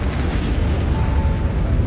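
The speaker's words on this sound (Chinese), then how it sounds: "突然引发了剧烈的爆炸。" A war-film explosion set off while loading cleared landmines onto a truck: a heavy, sustained deep boom rolling on as a loud low rumble.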